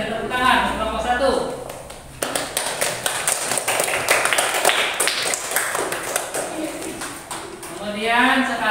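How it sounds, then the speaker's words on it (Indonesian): A classroom of students claps for a student group after its presentation, a burst of scattered, uneven applause lasting several seconds between stretches of a teacher's voice. "Kasih tepuk tangan untuk kelompok 1."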